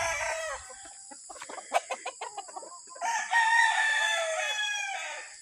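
Fighting gamecocks on a farm crow and cluck close by, with a burst of sharp clucks followed by a long, loud crow and further crowing layered behind it.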